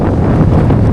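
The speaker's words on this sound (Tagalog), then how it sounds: "Anong lakas ng hangin, no?" Strong seaside wind roars steadily and loudly across the microphone on a rocky shore, a dense unbroken rumble with no voices.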